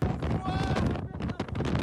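Strong gusting wind during a storm in Rio de Janeiro, a loud continuous roar battering the microphone with rough buffeting, heard close and dominant throughout.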